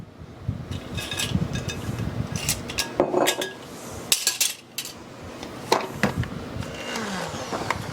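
Vanilla being mixed into cookie batter in a bowl, with repeated clinks and scrapes of a utensil against the bowl, fairly close, in an irregular rhythm over a low background hum.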